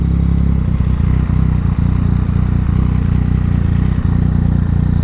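A 2018 Yamaha MT-09 SP motorcycle exhaust drones loud and close while riding, a steady low engine rumble with a faint mechanical clatter and constant wind rush over it.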